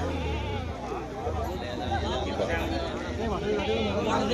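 Goats bleat repeatedly amid a busy crowd at an outdoor goat market in Asalgaon, their cries mixing with the steady hubbub of nearby chatter.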